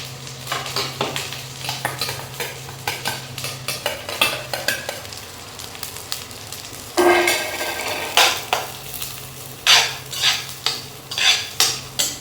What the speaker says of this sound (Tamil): ஒரு பச்சை மிளகாய், கருவேப்பிலை கொத்து, புதினா கொத்து, மல்லி கொத்து இதெல்லாம் போட்டு வதக்க போகிறோம்.